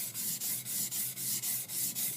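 Repeated wet rasping strokes of a skiving knife on a soaked water stone, about eight even back-and-forth passes heard up close with no talk.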